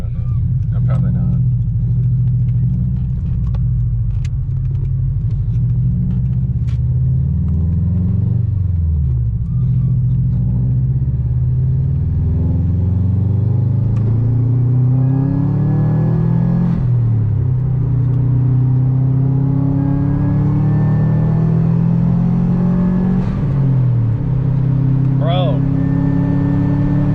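A car engine rumbles at steady idle with a deep, continuous low drone, rising and falling through a few revs, loud and close throughout, with a person talking over it.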